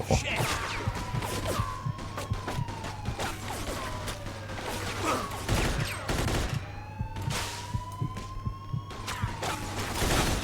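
Rapid bursts of gunfire in the Mafia 2 shootout, sharp repeated shots and impacts in quick clusters, loud and close with ringing tones and mechanical clatter between volleys.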